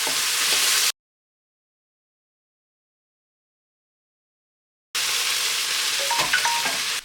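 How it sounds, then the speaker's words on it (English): Red pepper, courgette, ginger and garlic stir-fry with a close, even sizzle and light scraping. Partway through the sound cuts out completely for about four seconds, then the frying returns with a few small clinks and no talk. "Then add the red pepper and stir for 2 more minutes."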